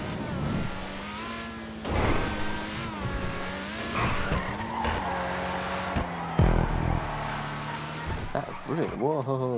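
A Principe Deveste Eight car driving in Grand Theft Auto 5, with an engine whose pitch rises and falls as it shifts and revs, plus repeated tire squeals and skids as it takes corners, while a voice talks over it.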